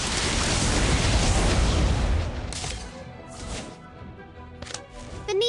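A Confringo blast curse explodes in the Harry Potter: Magic Awakened mobile game with a loud, deep, rumbling boom that fades over a couple of seconds, followed by a few sharper magical bursts and crackles.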